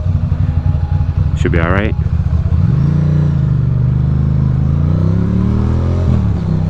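A Ducati motorcycle rides through holiday traffic between Brooklyn and Manhattan in high winds, its low engine hum running steadily and swelling into a rising pitch, while someone speaks briefly early on.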